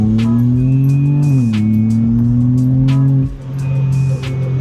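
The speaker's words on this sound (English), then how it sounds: "that's the sound of this inline six from the S58" A 2026 BMW M2 with its S58 inline-six engine accelerating hard, a loud, close, steady engine drone that dips briefly as it shifts, with a faint tire squeal.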